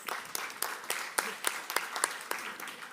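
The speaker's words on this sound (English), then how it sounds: "Let's give a round of applause to all the speakers." Audience applause at an energy transition partnership conference, a room of scattered, uneven hand claps that stays moderately quiet and distant for the whole stretch.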